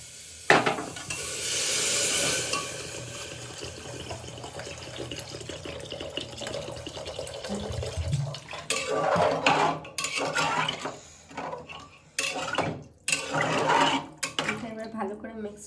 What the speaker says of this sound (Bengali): তো একটু ভালো করে নাড়িয়ে চাড়িয়ে এর মধ্যে এবার একটু জল দিয়ে দেবো।